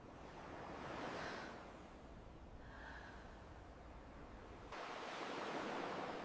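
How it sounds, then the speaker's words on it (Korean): Ocean waves wash up on a beach, a soft, distant rush of surf that swells and recedes in slow surges, fairly faint and with no voices. "파도가 발목까지 차올랐다가 빠져나갔죠."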